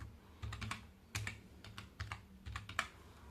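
Quiet, close clicks of a computer keyboard as code is typed, falling in short uneven bursts with small pauses between keystroke clusters.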